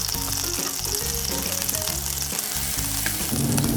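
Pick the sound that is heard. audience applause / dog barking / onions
onions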